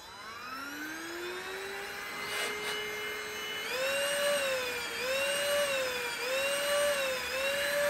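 A Prettycare W200 cordless vacuum cleaner motor spins up into a steady, high, thin whine, then shifts pitch in repeated swoops, running loud and alone without talk.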